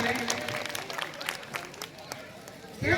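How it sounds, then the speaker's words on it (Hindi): Audience claps for children performing a comic doctor skit at a 2025 silver jubilee celebration, scattered moderate applause with crowd murmur for a few seconds. "तालियां बजाइए ताकि बच्चों को थोड़ा हौसला मिले"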